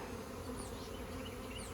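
Honeybees buzz around a hive in a garden yard, a faint, steady hum with no pauses.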